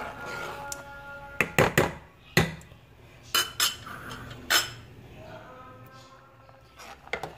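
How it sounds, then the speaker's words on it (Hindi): A spoon stirs seviyan in milk in a pot, sounding as a string of sharp metallic clinks and knocks against the pot at uneven intervals over a low background hum. "हम चलाते जा रहे हैं चम्मच वक्फे वक्फे से"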